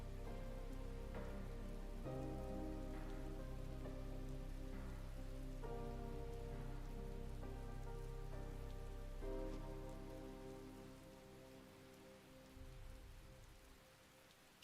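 Steady rain falls in Skyrim, a dense, even hiss of drops on surfaces that runs throughout beneath a sustained tonal background, easing slightly toward the end.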